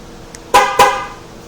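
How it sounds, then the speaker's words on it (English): Two short, loud car horn honks in quick succession, close by, with a faint click just before: a remote-start unlock confirmation on a 2008-2010 Ford Super Duty F250 truck. "If I press it again, it's going to give me a 2-honk unlock confirmation."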